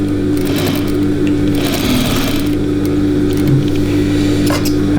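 A sewing machine stitches a denim seam for a fuzzy denim mitten, humming loudly and steadily up close with a constant motor drone and rapid needle clatter, with no talking over it.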